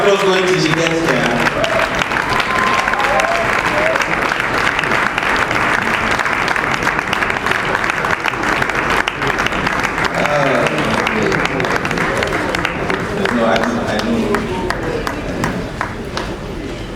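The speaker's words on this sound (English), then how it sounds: "Keep the applause going till she gets there." Sustained crowd applause at the Lagos International Theatre Festival, a thick steady wash of clapping held for many seconds while a performer walks up, with speech heard over parts of it.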